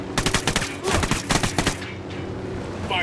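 Gunfire in Ghost Recon Wildlands: loud bursts of rapid automatic shots in several clusters, close and punchy, then a fading tail of distant rumble.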